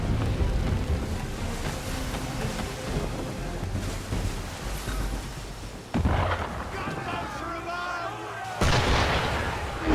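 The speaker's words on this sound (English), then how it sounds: "Why is he shooting at us?" Ship firing shots in the video game Assassin's Creed III, heavy booming blasts over rumbling wind and water noise, with voices talking over the action.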